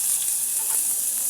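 Onion paste hitting hot oil in a pan, just after aubergine and fish were fried in it, sizzles and crackles steadily and close for a short moment, with no talking.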